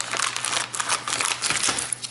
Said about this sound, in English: At first I have to open it. Yeah, to open it I will use the scissors.